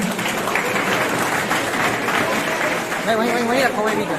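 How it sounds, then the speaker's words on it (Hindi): Loud crowd applause at an engineer's day celebration, steady clapping from many hands with voices talking over it and a brief cheer near the end. "जोरदार तालियां।"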